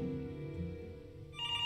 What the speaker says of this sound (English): And then it's the phone call, right?